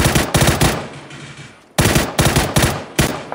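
Gunfire in PUBG crackles in rapid bursts, a quick string of loud sharp shots, a short pause, then more close volleys in a tight rhythm, with no talking.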